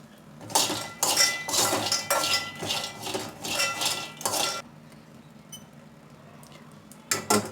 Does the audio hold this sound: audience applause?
no